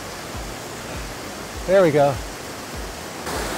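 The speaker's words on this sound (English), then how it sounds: "we get this beautiful view of the waterfall" A small waterfall on a creek at Grover Hot Springs gives a steady, broad rushing hiss throughout, heard from nearby, while a person briefly speaks over it.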